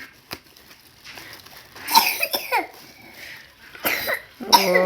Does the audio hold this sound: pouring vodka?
no